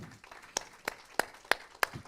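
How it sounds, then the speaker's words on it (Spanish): Church congregation applauding in gratitude during a sermon on prayer, heard here as five sharp, evenly spaced claps about a third of a second apart over a quiet background, fairly faint overall. "Dale otro aplauso de gratitud al Señor."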